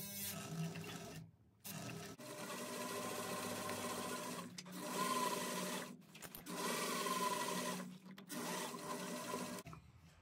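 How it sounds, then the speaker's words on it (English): A sewing machine runs in several long bursts with short pauses between, stitching a bag pocket closed at a narrow seam allowance, steady and close. "now we're going to sew this pocket closed with 1/8 inch seam allowance"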